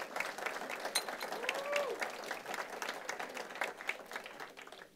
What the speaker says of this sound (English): So can we get a hand of applause for St. Christopher?